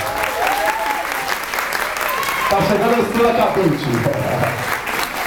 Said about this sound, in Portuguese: pedir a salva de palmas de vocês